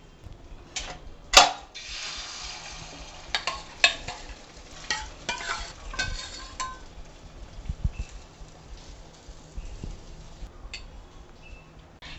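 Egg tikki batter sizzles on a greased griddle, a steady close frying crackle with a few sharp clinks and scrapes of utensils, no talk.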